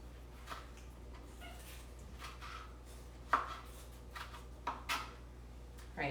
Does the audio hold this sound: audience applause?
no